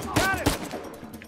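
Two sharp sniper rifle shots in Uncharted 4, close and loud, spaced about a third of a second apart, each followed by a short ringing tail before quieter game sounds.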